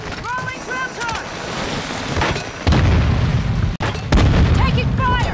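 Game explosion from a thrown ground charge in Modern Warfare 2, a deep, loud rumbling boom swelling midway and rolling on, with electronic chirps and game voices around it.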